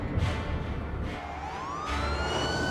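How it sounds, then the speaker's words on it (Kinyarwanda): An ambulance siren wails through a scene in a dramatized film, its tone sweeping upward in a clear rising glide over a steady background rumble. "Hakuno ambulance tayari."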